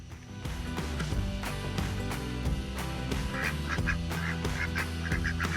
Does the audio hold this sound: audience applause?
no